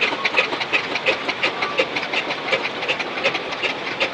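A steam engine runs at the Boconnoc steam fair in 2012, giving a steady, rhythmic chuffing and hissing beat about three times a second, close and continuous, with no voices over it.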